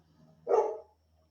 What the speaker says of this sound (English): you may hear my dog in the background